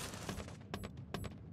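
Bursts of automatic gunfire ring out in a battle royale mobile game match, several quick volleys in an exchange heard at mid distance.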